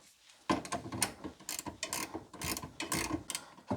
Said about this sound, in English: I'll carry on with the spanner